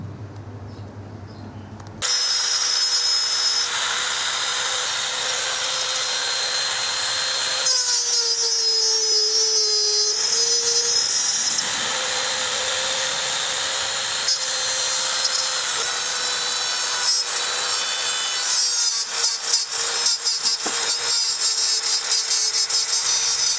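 A loud, steady power tool whines and grinds through wood for about twenty seconds, cutting a square hole for a wooden charcoal barbecue, its pitch dipping and shifting as it cuts.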